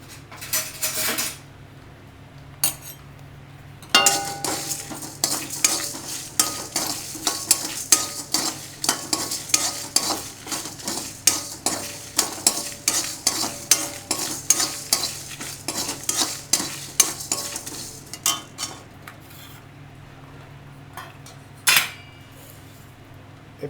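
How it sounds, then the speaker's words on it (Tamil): Coriander seeds, chana dal, urad dal, dried red chillies, fenugreek, pepper and cumin dry roasting in a pan for Srirangam-style pulikuzhambu, with a steady run of scraping, rattling stirs and a faint crackle throughout. "கடலைப்பருப்பு, உளுத்தம்பருப்பு, மிளகா வத்தல், வெந்தயம், மிளகு, ஜீரம், இது எல்லாத்தையும் வெறுமனை வறுக்கணும்"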